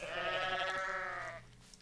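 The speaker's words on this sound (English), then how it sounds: "Those were the goats." A single drawn-out goat bleat from the video game Goat Simulator, clear and nasal, fading out after about a second and a half.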